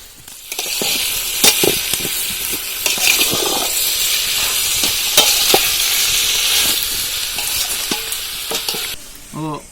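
Tomatoes hit half-cooked onions in a hot pan for chicken dum biryani made with ration rice, giving a steady, loud sizzle and hiss with scraping stirs throughout and a brief clatter near the end.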